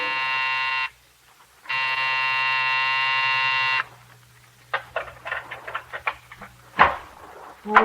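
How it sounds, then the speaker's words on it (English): In a radio drama, an office building's night buzzer sounds two long, harsh, steady buzzes separated by a short gap, followed by quieter scattered clicks and knocks. "when you pressed the night buzzer, it growled at you."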